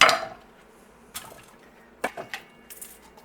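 A kitchen knife cutting around the top of a bell pepper to take it off for stuffing, heard as an opening clatter followed by scattered soft taps and scrapes against the board, close and intermittent, with no talking.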